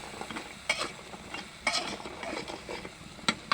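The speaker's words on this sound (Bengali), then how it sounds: "এখন এই মশলার ভিতরে সব কষিয়ে নিতে হবে" Pumpkin lentil dumplings stirred and sautéed in spice paste in a pan, with soft sizzling and scraping spoon strokes recurring every second or so, fairly quiet and close.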